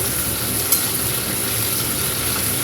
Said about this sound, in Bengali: চলো ঢ্যাঁড়সটা ভেজে নিই